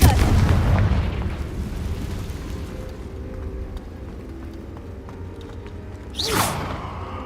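A Confringo fire spell goes off in Hogwarts Legacy, a heavy booming blast at the start that rumbles and fades away, followed near the end by a short rising whoosh.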